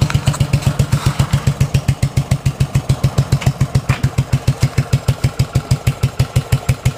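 Engine of a homebuilt 1963 tractor with a centrifugal clutch and a '41 Chevy pickup transmission, running with a loud, close, rapid and very even thumping beat that holds steady throughout.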